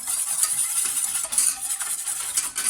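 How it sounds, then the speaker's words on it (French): A utensil whisks cornstarch quickly into whole milk, making a continuous close, bright swishing sound that rises and falls slightly with the stirring, with no one talking. "on va faire dissoudre donc la maïzena dans le lait. Donc on mélange assez rapidement."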